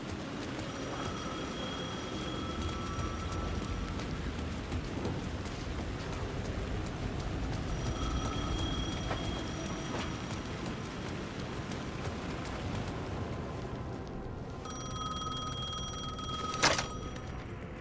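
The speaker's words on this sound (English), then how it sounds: "The phone was ringing again." A telephone rings in the video game Alan Wake 2. Several bursts of a bright, repeating electronic ring come through a steady rain-like hiss, with a short knock near the end.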